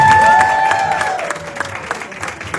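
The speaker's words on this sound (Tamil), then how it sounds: "நல்ல பலத்த கரகோஷம் கொடுங்க அவங்களுக்கு" Audience applause for sponsors at a meet-and-greet event in Melbourne, a crowd clapping steadily with scattered cheering. A brief tone fades in the first second, and the sound thins toward the end.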